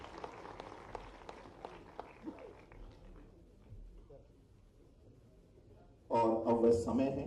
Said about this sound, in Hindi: अपने ग्वालियर के लिए जोरदार तालियों से हम अभिनंदन करें